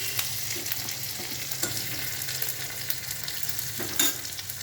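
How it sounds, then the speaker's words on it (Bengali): Sliced onions fry in hot oil, giving a steady, fairly quiet sizzle with occasional soft clicks of a spoon stirring or lifting them from the pan. "আমার পেঁয়াজ হালকা করে ভাজা ভাজা হয়ে গেছে"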